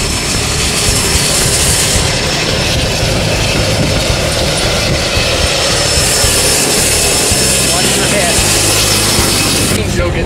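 A skydiving plane's engine roars in flight over Las Vegas, a loud, constant drone with wind rush filling the cabin throughout, with no voices over it.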